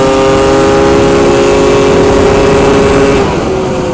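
Pumpkin 650 engine revving hard and holding high RPM on a cold 30-degree day, a loud close continuous roar with a steady high whine that drops slightly near the end.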